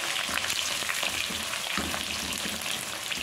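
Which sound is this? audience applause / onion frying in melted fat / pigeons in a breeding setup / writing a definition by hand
onion frying in melted fat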